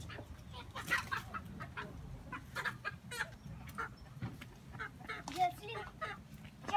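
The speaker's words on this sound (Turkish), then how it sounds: "Koş, tavuk geliyor. Yakala onu." Chickens cluck in a village yard, with repeated short clucks and squawks scattered over a steady outdoor background, fairly close and moderate in level.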